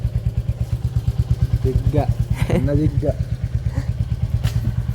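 A motorcycle being test-run before a ride runs close by at a steady, rapid idling thump throughout, while voices talk over it.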